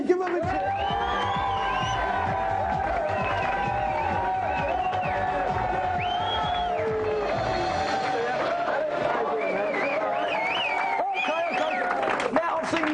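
An excited studio audience at a games show cheers, whoops and claps for the celebrity guests, a loud sustained roar with shrill shouts rising above it.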